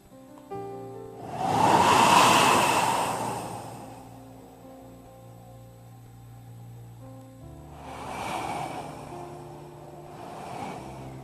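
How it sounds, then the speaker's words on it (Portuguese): Wind whooshing in a desert at night, a loud broad gust swelling then fading, followed later by a second softer gust over a faint low background. "ouve o barulho do vento, inclina assim o pescoço, e o vento vem"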